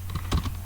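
Brief burst of keystrokes on a computer keyboard while typing HTML code, a few quick taps close up over a low steady hum, with no voice.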